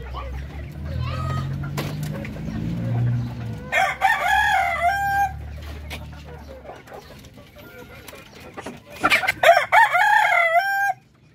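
Pure darag native roosters from Iloilo crow nearby, two clear crows a few seconds apart with clucking fowl in between, over low background rumble and some talk.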